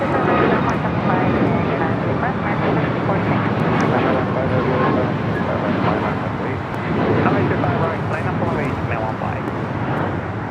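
Airliner engine roar at the LAX runway, a steady broadband rumble lasting throughout, loud and close, with faint radio talk mixed in underneath.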